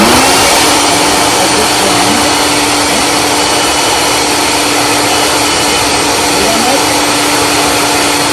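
A kitchen blender purees tomatoes for homemade marinara sauce, a loud, constant high whirring motor drone held without a break for several seconds, close up and drowning out the room.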